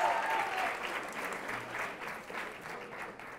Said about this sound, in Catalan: Aplaudim aquests 250 punts.